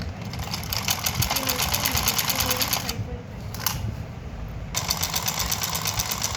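A sewing machine stitches the folded hem of samosa-cut pajama fabric, running in a steady fast mechanical rattle that stops briefly partway through and then resumes.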